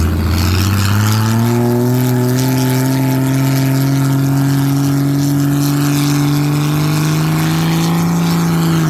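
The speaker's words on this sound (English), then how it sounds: "That's why I think that's a good burnout." A car doing a burnout at the Shelbyville car cruise in 2022 holds a loud, sustained engine rev with a rising, steady drone close by, running unbroken for the whole stretch with no talking.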